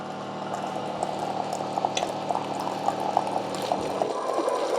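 A Keurig K-Duo coffee maker dispenses hot water with a steady gurgling, boiling hiss and small bubbling pops, continuous and close up throughout.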